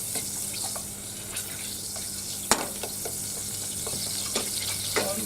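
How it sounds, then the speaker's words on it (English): Butter melting in a saucepan over a gas flame, guided along the side of the pan with a spoon, giving a steady soft sizzle and hiss close by, broken by a few light scrapes and one sharp clink. "the spoon to help me to guide the butter on the side of the pan, not the bottom, so it melts really quickly"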